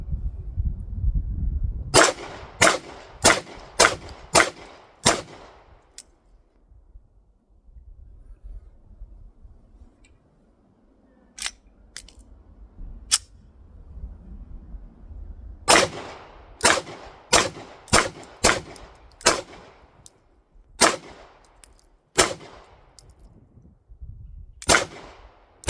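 A Beretta APX pistol fires at a shooting range in fast strings of sharp, loud reports. Quick bursts of five or six shots alternate with pauses and a few single shots.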